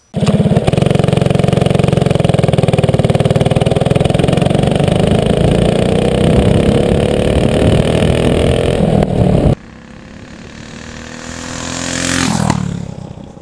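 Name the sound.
go-kart engine running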